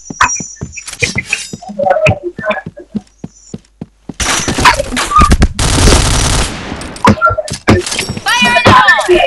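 Gunfire in a shooting video game, with sharp isolated shots and then long loud bursts of automatic fire, thuds and impacts, while players talk over the action.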